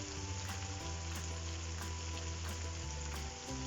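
Ginger and garlic fry in a hot pan with a steady, dense sizzle that runs unbroken throughout, close and fairly loud, with no talking over it.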